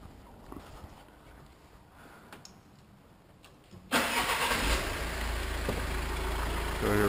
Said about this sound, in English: So now we're connected up, and start up the engine, press start.